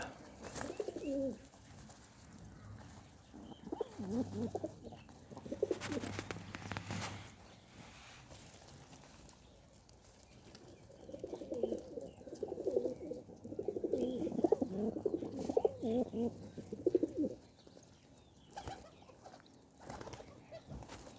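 Pigeons in a loft coo in low, soft rolling bouts, two longer stretches of overlapping calls with quieter gaps between, fairly close but not loud.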